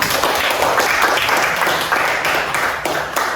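A crowd of children in a classroom gives loud, steady applause, with a few pulsing swells across the short burst.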